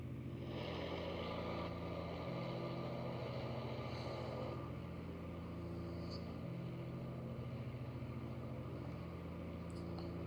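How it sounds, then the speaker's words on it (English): A light aircraft engine in the X-Plane 11 flight simulator drones steadily with a constant mid-pitched hum and harmonic buzz, unbroken and fairly quiet throughout. "Let's check how's the audio quality actually with the engine."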